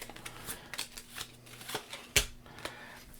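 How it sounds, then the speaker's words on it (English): Blue starter cards for the Bear Mountain Camping Adventure board game being shuffled by hand, a quick run of soft riffling and flicking card noises close by, with one sharper snap near the end and no talking. "Gotta shuffle my blues."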